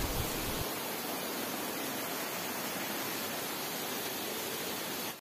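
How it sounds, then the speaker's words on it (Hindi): Steady, broad rush of a waterfall at Ghatsila in Jharkhand, a dense continuous roar heard up close at a busy tourist spot, with a faint brief sound at the start. "घाटशिला में बहुत अच्छा झरना है यहाँ पर"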